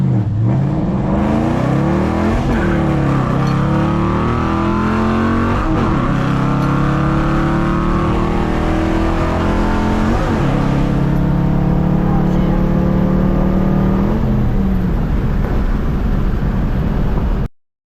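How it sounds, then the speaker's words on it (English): A supercharged car engine, fitted with an M62 supercharger, revs hard through repeated power shifts, each gear climbing in pitch before a sharp break, loud and close throughout, ending abruptly. "We're gonna power shift."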